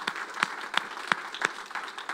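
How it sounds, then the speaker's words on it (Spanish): Sparse, scattered hand claps from a church congregation after a sermon, a few distinct claps spread over a couple of seconds at moderate distance, no talking. "Démosle un aplauso grande."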